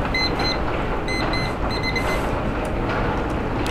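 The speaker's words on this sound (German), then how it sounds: "Warum habe ich den Wecker auf 11 Uhr gestellt?" A video game alarm clock in the horror game Cry of Fear rings in repeated short bursts of high beeping over a dense rumbling background, with the ringing fading out partway through.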